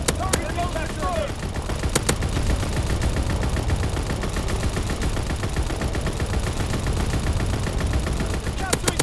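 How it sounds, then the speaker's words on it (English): Anti-aircraft guns fire in bursts in Call of Duty: WWII, a rapid, rattling stream of loud, close shots with sharp cracks standing out at the start and the end. "Anti-aircraft bursts commenced."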